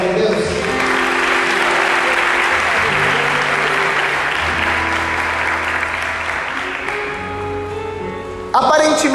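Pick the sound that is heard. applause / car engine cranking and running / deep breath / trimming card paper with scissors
applause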